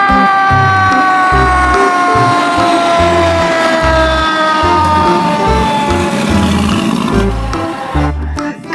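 A toy fire truck blares a loud, continuous electronic siren with wavering tones over a steady, repeating low pulsing pattern, alone and close by, cutting off near the end.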